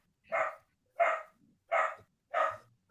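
A dog barks four times in an even, evenly spaced series, each bark short and clear, heard fairly close in an otherwise quiet room with no talking.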